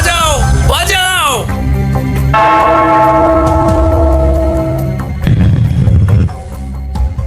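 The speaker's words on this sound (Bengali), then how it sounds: "ওই ঘন্টাটা বাজাও, বাজাও।" In an animated scene set in a cave, a bell painted with a moon is struck and rings with a loud, sustained metallic tone that slowly fades, with excited voices speaking before it and again near the end.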